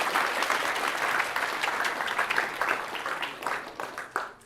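Scattered applause ripples through a university programming lecture hall, moderately loud at first and growing more uneven, with individual claps standing out as it fades.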